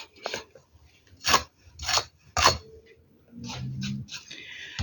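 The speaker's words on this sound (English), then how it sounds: "Put your scraper in your paint, just drops." A paint scraper drags drops of chalk paint across a wooden cheese board in several short rasping strokes, close up, followed by fainter rubbing and light knocks.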